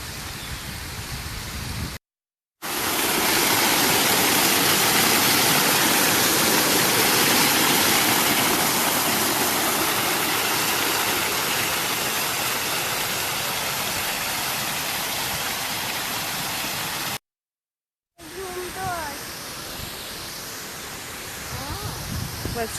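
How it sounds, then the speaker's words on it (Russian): An outdoor water fountain at a country club splashes in a loud, steady wash of falling water that fills most of the clip, with a brief cut before and after and voices speaking nearby. "Фонтан. Мы вот к нему и направляемся."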